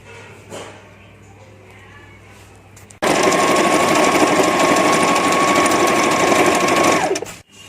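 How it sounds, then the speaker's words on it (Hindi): A sewing machine stitching a Banarasi saree into a lehenga, a quiet room tone giving way to a loud, continuous close whirring run for several seconds before stopping abruptly. "अब हम इसकी सिलाई कर देंगे।"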